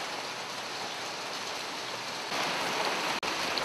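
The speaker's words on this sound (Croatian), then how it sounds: "naročito kada pada kiša" Steady rain pours down across a neighbourhood of old apartment blocks in Nikšić, a dense continuous hiss that grows slightly heavier partway through, with no voices.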